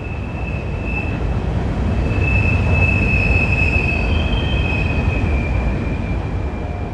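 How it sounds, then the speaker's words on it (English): A loud train rolls past a tent site right beside a railroad line in Boiling Springs, a steady close roar with a sustained high wheel squeal running through it, recorded on a phone. "I got a recording of that train on my phone because I was like, that's so insanely loud."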